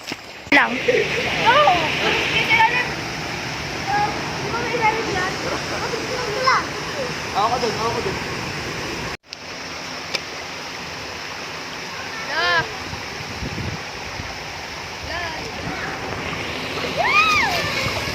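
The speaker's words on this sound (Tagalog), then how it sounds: "nakikita niyo na ba ang ilog?" River water rushes steadily at a riverside gathering, a broad continuous wash heard under frequent voices and children's chatter nearby.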